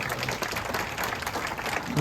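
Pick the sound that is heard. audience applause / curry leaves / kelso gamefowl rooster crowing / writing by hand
audience applause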